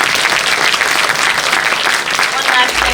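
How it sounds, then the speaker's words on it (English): Audience applause after a Q&A at a documentary film festival screening: a dense, loud, steady wash of many hands clapping that holds evenly for the whole stretch. "Let's give them a round of applause."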